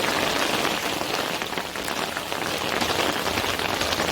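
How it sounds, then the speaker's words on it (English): Steady rain falls on surfaces outdoors, a dense continuous patter close by that fills the scene without a break and with no talk over it. "It's raining."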